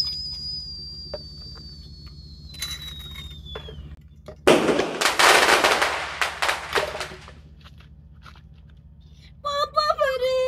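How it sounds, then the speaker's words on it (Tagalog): Firecrackers going off in a dense crackling burst lasting a couple of seconds, preceded by a descending whistle and a few scattered pops, with faint voices and a high electronic chirping afterward. "paputok lang yan"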